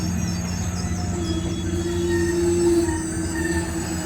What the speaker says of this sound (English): Pushing us to DC is MARC MP36 PH-3C diesel locomotive number 11 with 6 Kawasaki Mark III cars trailing.